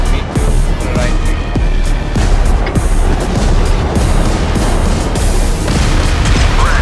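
Loud, dense rumbling booms from airstrike explosions in a video game, rolling continuously with heavy low-end thuds and crackle, near and overwhelming throughout.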